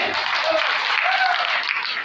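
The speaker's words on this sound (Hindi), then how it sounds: "आपकी जोरदार तालियों के बीच में जरा ताली बजाइए हाथ लगा के।" Dense, steady audience clapping at a Hindi-language gathering holds at an even level for about two seconds, with a faint voice or whistle tone surfacing briefly within the wash of claps.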